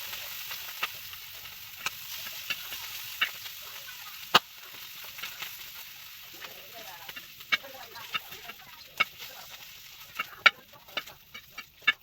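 A mixture roasting in butter in a pan, a faint continuous sizzle dotted with sharp clicks and taps of stirring, fairly quiet and close.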